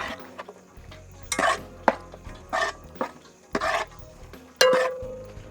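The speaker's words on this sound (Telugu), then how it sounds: "క్యాప్సికమ్, ఉల్లిపాయ ముక్కలు ఇంకా మెంతి కూర నూనెలో చక్కగా వేగుతున్నాయి." Capsicum, onion and fenugreek leaves cooking in oil in a pan for chicken Patiala, heard mostly as repeated clanks and scrapes of a spoon against metal over a faint sizzle, without voices.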